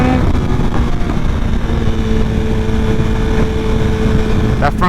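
A BMW S1000RR sport motorcycle cruising on a winter city ride, its engine a steady loud drone mixed with heavy wind rush throughout.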